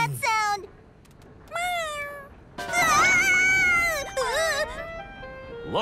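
Cartoon cat meowing in the children's animated series Tayo the Little Bus, several rising and falling meows in separate bursts, fairly loud and close, with a longer stretch of overlapping cries in the middle and no talk.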